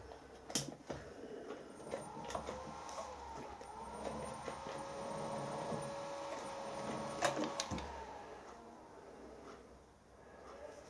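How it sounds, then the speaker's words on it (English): Lathe jogged in short gentle bursts to start cutting a thread for an air rifle gas ram, producing a whirring motor hum with faint tonal whine and clicks, fairly close and without speech. "I'm just using the jog button gently to try and get the thread started"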